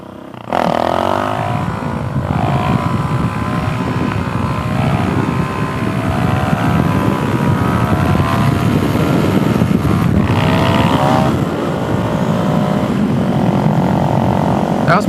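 A Suzuki DRZ400SM motorcycle engine revs hard for a wheelie beside a cornfield, loud and close with steady wind rush, pitch climbing through gear pulls near the start and again about two-thirds through, with no talking.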